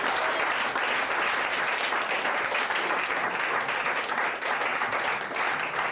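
A church congregation breaks into steady, dense applause, with many hands clapping together in a continuous wash that holds at an even level throughout.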